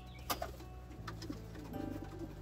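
A pigeon coos nearby in a low, throaty, rolling call, heard as a couple of soft murmuring phrases over faint background noise, with no talking.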